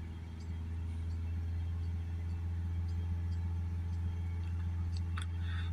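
A Mazda CX-3 1.5 engine hums low and steady, revving up gently under a fault with an exhaust pressure sensor, a constant quiet rumble with a few faint clicks near the end.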